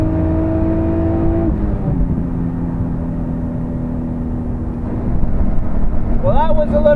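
An Infiniti G35 launches hard off the line at a drag strip, its engine droning loud and steady as it pulls through a gear change and keeps accelerating, heard from inside or close by.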